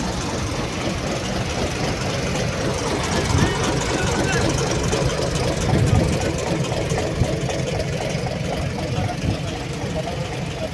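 Tractor engines work at a construction site for a tower base at Amaravathi, a steady rumbling drone with uneven knocking, heard continuously at moderate distance.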